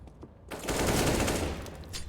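M4 rifle fire during a CS:GO-style 5v5 tournament match erupts as a dense burst of rapid shots that sustains for about a second and then tapers off, loud and close with no voices over it.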